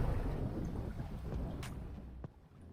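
Strong gusty wind aboard the sailboat Odyssey on Lake Ontario, a loud low rumbling buffet against the microphone with water and rigging noise, easing slightly toward the end.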